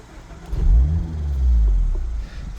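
A Mazda Miata engine cranking and catching, settling into a low idle rumble that swells twice before steadying, heard from inside the car.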